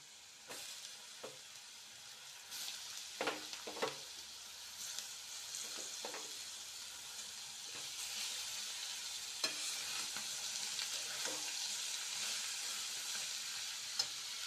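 Papaya fries with potatoes in a pan, a soft, steady sizzle close by, broken by occasional clinks and scrapes of stirring.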